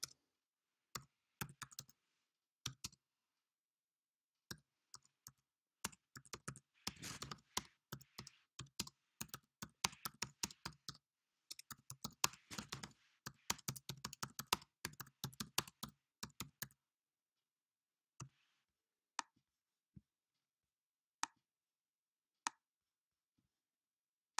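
Someone types on a computer keyboard, quiet and close: scattered keystrokes build into dense, irregular bursts of clicking, then thin out to a few isolated taps.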